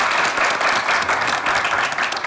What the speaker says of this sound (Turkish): Alkış, aferin çocuklar.